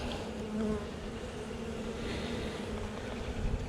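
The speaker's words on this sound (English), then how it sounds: "a lot of bees flying, but they're not particularly aggressive" Honeybees fly around an open beehive during an early-season check of a late-season split, a dense, steady close buzzing hum with individual bees droning past, with no talk.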